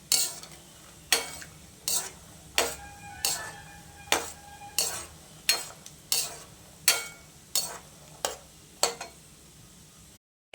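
Onion frying in a pan with a quiet sizzle underneath as a spoon scrapes and taps the pan about fourteen times at an even, regular pace.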